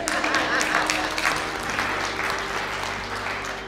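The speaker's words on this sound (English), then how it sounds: "You guys can clap for that." Audience claps loudly and steadily, the applause holding strong before gradually thinning out.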